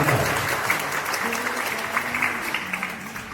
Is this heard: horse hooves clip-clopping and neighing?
no